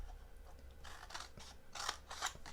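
Scissors cutting through paper or card while making a stepper box, a few quiet close snips, the last two crisp and distinct, with no speech.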